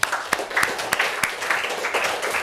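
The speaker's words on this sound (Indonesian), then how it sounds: "beri tepuk tangan untuk teman-temannya" Classmates in an Indonesian junior high school lesson applaud, a dense wash of clapping with a few sharper claps standing out, steady and fairly close throughout.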